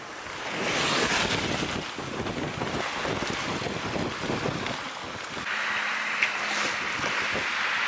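A sailboat on a beam reach at about 10 knots rushes through the sea, with steady water wash and waves mixed with wind buffeting the microphone throughout, and no talking.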